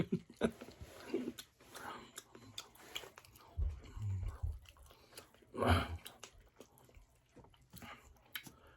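Someone chewing food cooked in an air fryer, soft wet mouth sounds and occasional crunches close to the microphone, irregular and faint, with a few breaths in between.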